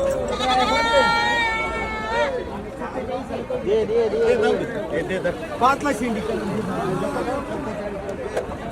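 Osmanabadi goats bleat repeatedly at a busy livestock market on the first market day after Diwali, several wavering calls near and mid-distance over a steady babble of buyers and sellers talking.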